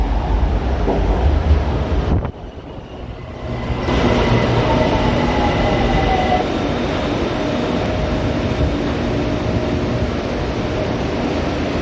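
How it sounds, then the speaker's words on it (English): A metro train arriving at a station in Bangkok rumbles and hums steadily with a rising whine, loud and near, with a brief quieter dip early on before the noise swells again. "I do believe there is a train approaching behind me."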